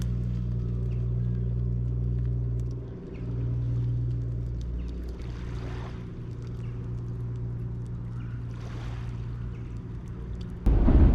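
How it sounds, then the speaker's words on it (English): A low, continuous rumble of a passing train in Scotland, heavy and steady with a deep drone, ending in a sudden louder thump. "it's not thunder. It is in fact a train"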